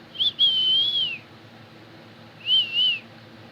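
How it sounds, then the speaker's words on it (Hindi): A whistle blown twice by a sage at a sacrificial fire site: a long, high, wavering shrill blast followed after a pause by a shorter warbling one, clear over faint background. "इधर यज्ञ स्थल पर ऋषि छेड़ेश्वर ने बजाई सीटी"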